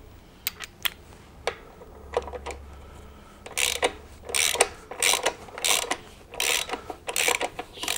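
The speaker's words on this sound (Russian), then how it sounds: "Пробуем еще раз откручивать." A wrench works at a seized bolt on a Honda BF130 outboard motor, giving repeated ratcheting clicks and metallic grinding scrapes in irregular bursts that grow denser and louder toward the end.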